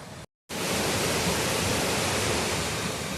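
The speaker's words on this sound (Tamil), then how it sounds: "இந்த அருவி வந்து சின்ன அருவிங்க." A small waterfall in a forest roars with a dense, steady rush of falling water, loud and close, continuing unbroken after a brief silent gap near the start.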